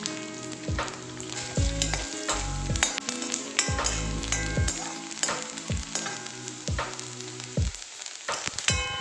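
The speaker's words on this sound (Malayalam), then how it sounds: "തേങ്ങാക്കൊത്തും ഇതുപോലെ നെയ്യിൽ കിടന്ന് നന്നായിട്ട് മൂത്ത് വരണം." Coconut pieces fry in ghee with a steady, close sizzle, interrupted by repeated low thuds and scrapes as a utensil stirs the pan.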